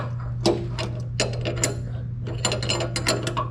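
A socket ratchet turning a sway bar link nut on a 1999 Ford F150, producing rapid close clicking pawl sounds in quick irregular runs over a steady low hum, no talking.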